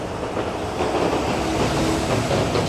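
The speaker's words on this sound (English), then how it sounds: "And the subway station right here, FM train, J train" A Manhattan subway train rumbles through Delancey Street station on the Lower East Side, a loud, steady roar of wheels with rhythmic clatter filling the whole stretch and no voices over it.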